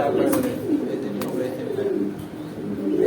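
Pigeons coo softly and repeatedly at a bustling pigeon market in Gajipur, Dhaka, with people talking nearby throughout.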